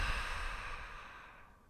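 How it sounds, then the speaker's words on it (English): One long, deep exhale during a guided yoga and meditation session, a close breathy rush of air that fades out over about two seconds. "Take one last deep awareness breath."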